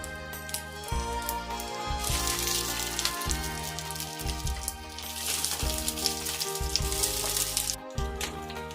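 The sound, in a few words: hilsa fish paturi parcels frying in oiled wok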